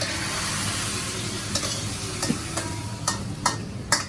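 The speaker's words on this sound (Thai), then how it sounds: "นี่เราก็ตักใส่จานนะ ในลูกค้ากินนี่นะครับสองจานนี้" A finished stir-fried dish is scooped from a wok onto two plates at a Thai street-food kitchen, with a soft continuous sizzle and a few sharp spatula scrapes and clinks spaced out over the seconds.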